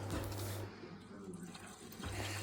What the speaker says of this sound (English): so now I just take the sump plug or drain plug out and let the oil drain completely